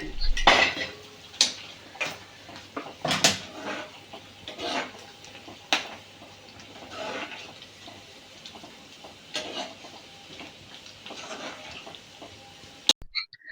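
A utensil scrapes and knocks against a pan while palak paneer is stirred over a slow medium flame, irregular metallic clinks and taps that come close and fairly quiet, with no voices.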